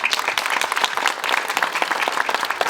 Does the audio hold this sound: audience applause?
yes